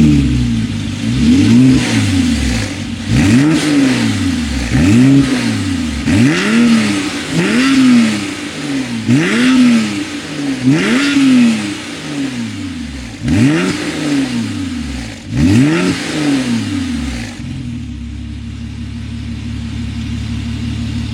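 Porsche 997 4S fitted with a pair of SCART Ultima Récital silencers, revved repeatedly: loud, close engine blips rise and fall in a steady rhythm about a dozen times, then settle into a low idle.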